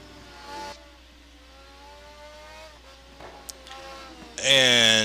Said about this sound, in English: Now on board with Ryan Schleif, driving the Pagani Huayra. And this is the loudest car on the track